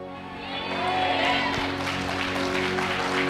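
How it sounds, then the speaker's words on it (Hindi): A congregation at a revival meeting in Jharkhand applauding after a sermon, a broad, swelling wash of many hands clapping with murmured voices, rising and holding at a moderate distance. "जितने लोगों ने आमीन बोलकर ताली बजाई है"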